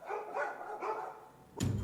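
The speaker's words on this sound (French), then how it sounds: "des aboiements incessants résonnaient, emplissant le marais d'une vague de bruit" Several dogs bark in a burst across a marsh, a pack of about fifty black-and-white dogs running; repeated barks at a steady rhythm, then a sharper, louder noise at the end.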